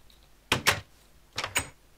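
A door in a survival jungle island video game, heard as two quick paired clunks, one opening and one closing, then another pair a second later, clear and close with no talk.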